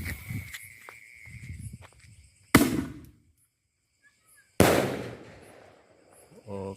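Raja Wali Jumbo roman candle firework at a night-time Ramadan celebration, firing two sharp, loud blasts a couple of seconds apart, each trailing into crackle, with crickets chirping softly in the gaps.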